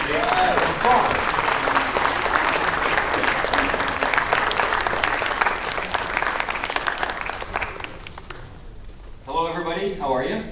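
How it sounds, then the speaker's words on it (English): A theater audience bursts into loud, dense applause at a screening event, sustained for several seconds before fading, then a voice begins speaking near the end. "So let's give them a big round of applause."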